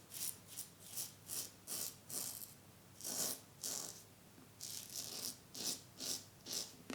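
Quiet, close scraping of a gunmetal black double-edge safety razor through stubble, rasping strokes repeating in a steady rhythm with no voices.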